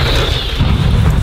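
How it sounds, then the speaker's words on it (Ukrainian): A single loud artillery or gun shot on the Donbas front line, heard close and heavy as a dense boom that fills the whole moment with rumbling roar. No speech. "Постріл!"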